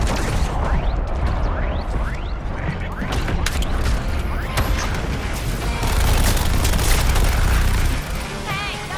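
Aerial bombing in the Suicide Squad: Kill the Justice League game, heavy booms and crunching debris with whooshing mechanical effects amid chaotic combat noise, voices shouting over the din.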